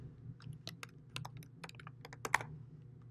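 Someone types a short layer name on a computer keyboard, a quick close run of light clicking keystrokes in an irregular rhythm over a quiet hum, with one louder tap near the end.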